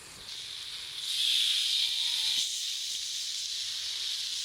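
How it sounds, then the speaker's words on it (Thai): Water poured onto a Thai grilled eggplant mixture in a pan hisses steadily, swelling louder for about a second and a half before settling into a continuous close simmering hiss. "แต่เราจะเติมน้ำลงไปนะคะ ค่อยๆ ให้มัน เดือดนะคะจนมันแห้งนะคะ"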